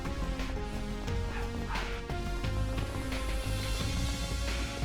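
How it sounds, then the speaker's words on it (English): Several dogs bark in the background, a few short barks scattered through the clip beneath steady, continuous game music. "The dogs are shouting."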